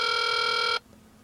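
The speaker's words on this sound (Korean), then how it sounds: "신호음이 울리는 소리가 들리시죠?" Ringback tone played over the speakerphone of a Samsung Omnia 2 mobile phone: a loud, steady electronic tone sounding alone, then cutting off abruptly partway through, leaving faint low hum.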